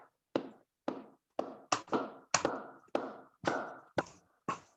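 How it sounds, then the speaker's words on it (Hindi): A group in an online webinar performs the 'laddu tali' hand clap, about nine sharp, distinct claps spaced in a slow, slightly uneven rhythm, close and clear with silence between them. "चलिए एक बार सब लोग लड्डू ताली बजा देते हैं।"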